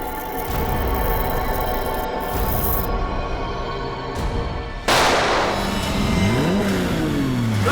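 A car engine revs hard and the vehicle pulls away, a steady loud motor roar that rises in pitch with gear changes after an abrupt burst midway, with no talk over it.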